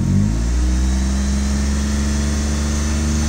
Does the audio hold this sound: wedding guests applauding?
no